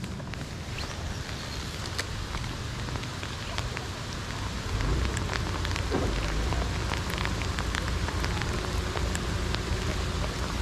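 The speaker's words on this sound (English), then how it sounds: "It is friggin' raining." Steady rain falling outdoors on a fishing trip, a dense close hiss with scattered drop ticks and a light patter, continuous throughout with faint voices in the background.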